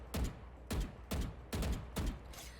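Five loud gunshots from the Valorant video game, fired in a steady rhythm about half a second apart, each a sharp crack with a short decaying tail, close and alone with no voices.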